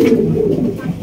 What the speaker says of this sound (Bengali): দেখেন কত সুন্দর কবুতর দেখেন।